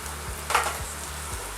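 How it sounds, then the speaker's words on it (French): Carrots tumble into a pot of onions browning in fat, as the base for a braised beef tripe stew with tomatoes and potatoes. A steady sizzle runs throughout and jumps in a brief louder burst as they land. "Une fois que les oignons sont un peu colorés, j'y mets les carottes"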